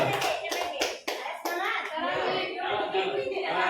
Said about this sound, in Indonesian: Boleh tepuk tangan untuk Bu Pur dan Bu Ima.